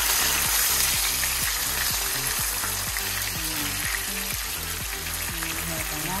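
Tacos sizzling in a frying pan, a steady broadband fry running the whole time over a repeating low rhythmic hum in the background, no voices.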